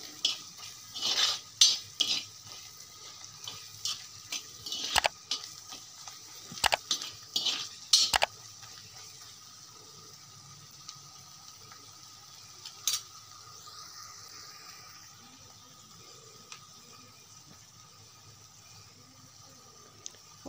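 Spices for a goat trotter sherva fry in a pan in a faint, steady sizzle, with sharp metallic clinks and scrapes of a spoon stirring against the pan early on before it settles into quiet frying.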